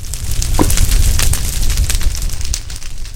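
Achievement fireworks in the Minecraft RotaryCraft mod burst in a loud, close rumbling boom with crackling pops trailing off over about three seconds, no talk over it.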